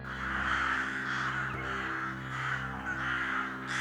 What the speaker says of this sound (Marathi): अचानक खूप सारे कावळे वाड्यावरून चक्रा मारून जोर जोराने ओरडू लागले.